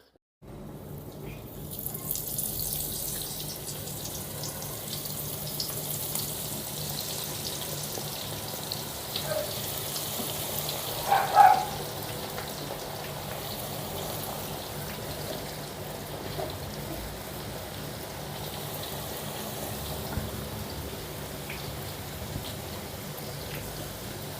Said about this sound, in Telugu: పకోడీని ఎప్పుడు కూడా ఆయిల్లో వేసిన తర్వాత కలపకూడదండి కలిపితే విడిపోతుంది